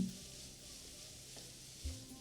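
Onion, capsicum and green chilli fry over a low flame in a pan, making a faint steady hiss with a couple of soft knocks from stirring.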